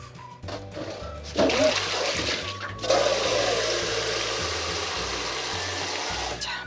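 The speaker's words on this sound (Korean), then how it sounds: "물을 조금만 넣고 잠길 정도로 넣어야 돼요?" Water runs and splashes into a pot of chicken feet set to boil with ginger and garlic, a steady pouring rush that swells twice and continues to the end, close and moderately loud, with no talking.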